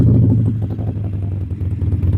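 A motorcycle engine starts and settles into a steady, throbbing idle, fairly loud and close, with a slight clatter and no talking over it.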